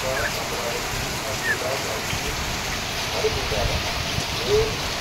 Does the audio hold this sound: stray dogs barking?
no